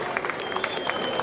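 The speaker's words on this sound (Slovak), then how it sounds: "Prosím ešte jeden veľký potlesk" Audience applause for a performer at a Slovak folk brass band concert, a steady wash of clapping from the crowd that runs the whole moment, loud and fairly even, with a voice faintly under it.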